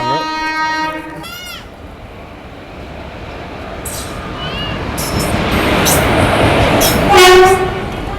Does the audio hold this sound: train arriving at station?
yes